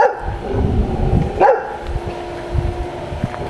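A dog barks sharply once nearby, with fainter yips around it over a low background rumble.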